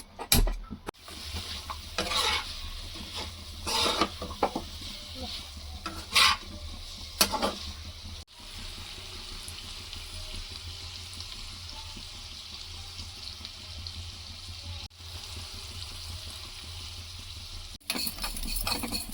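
Masala spices for village style chicken fry sizzle in a pan, with scraping stirs and clinks in the first half, then a quieter steady frying hiss.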